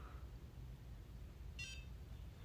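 A Foreo Bear Mini facial device gives one short, high electronic beep partway through, faint against a low, steady background hum.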